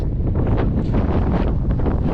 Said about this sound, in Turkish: Rüzgar demeyeyim artık bir fırtına boyutlarına ulaşmış durumda.